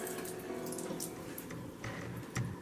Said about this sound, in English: we're going to open up our potatoes, extract all the water out of that can